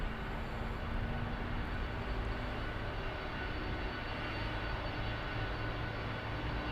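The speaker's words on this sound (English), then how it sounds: "This is Air Astana, flight 922, on its way to Astana" An Air Astana airliner at Frankfurt airport gives a steady, moderately distant engine rumble and broad roar that holds evenly throughout, with no talk.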